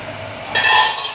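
A metal lid set down over a dosa pan while cooking thick Jaffna-style dosa: one sharp clink of metal on metal after a quiet moment, close and clear, with a short ringing tail.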